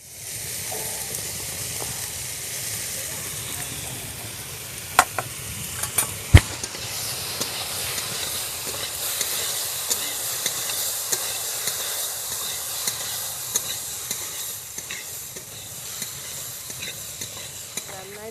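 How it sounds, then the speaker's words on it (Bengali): Prawns sizzle and fry in a pan for a Bengali sour dish with taro stems and lemon, a steady hiss with scattered spatters and sharp utensil clinks, moderately quiet, with no talk. "এবারে আমি চিংড়ি মাছগুলো দিয়ে দিচ্ছি"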